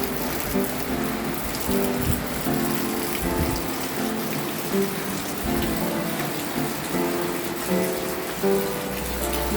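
Heavy, steady rain falls on surfaces during a storm while riders shelter from it on a Harley trip. A dense hiss of drops and splashes runs nonstop at close range.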